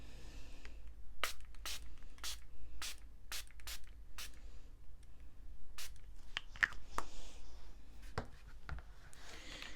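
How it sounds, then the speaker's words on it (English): A spray bottle fires a series of short, sharp water mist bursts onto a card panel, spaced irregularly, with a few light handling noises in between. "I'm just going to spray it onto the panel"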